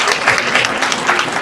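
Applause from the audience at the New-Bell Diapo Awards ceremony in Montreal, a brief, loud, even burst of many people clapping together with no voices over it.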